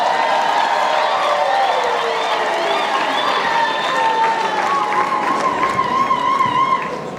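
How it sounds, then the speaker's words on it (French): Students applaud at a graduation ceremony of a community higher-education school, a dense, loud, sustained wash of clapping mixed with wavering cheers and ululating voices from the crowd. "sous les applaudissements de ses étudiants"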